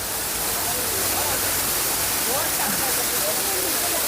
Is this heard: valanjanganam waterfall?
yes